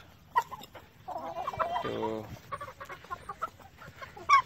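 An Aseel rooster on a farm clucks close by in a run of short, throaty, harmonic calls, with scattered softer clucks around it and someone briefly speaking nearby.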